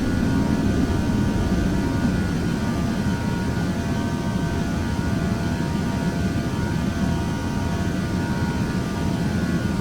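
Aerosoft A321 jet in the Prepar3D flight simulator climbing out after takeoff from Gatwick, a steady loud broadband engine roar with low rumble that holds constant throughout, no talk.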